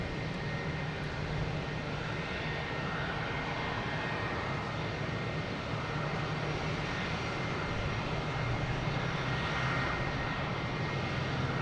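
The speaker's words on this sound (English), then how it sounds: "we got a JetBlue taking off here to JFK" A JetBlue Airbus A320 takes off from Boston Logan bound for JFK, a steady, loud jet roar filling the air continuously with no breaks and no voices.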